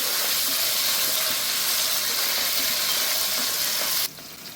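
Ginger garlic paste fries in a pan with a steady, dense sizzle that runs loud and continuous, then drops sharply quieter near the end.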